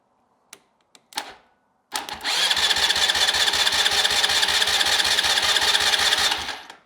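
ATV starter motor cranking steadily for about five seconds with a fast, even whirring rhythm, loud and close, after a few brief clicks and sparks.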